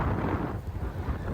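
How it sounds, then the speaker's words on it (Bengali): Strong wind in heavy rain buffeting a microphone on a ferry deck crossing a Norwegian fjord, a loud, close, low roaring rumble that swells and dips without pause. "প্রচণ্ড বাতাস এবং বৃষ্টি হচ্ছে"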